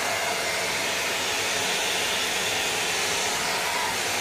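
A Lidl Paris Hilton hot air brush runs continuously in use on hair, a close, steady airy whoosh with a motor hum and no talking.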